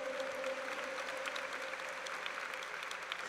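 Congregation applauding at a Catholic worship gathering, steady dense clapping that fills the room, held at a constant level without a voice over it.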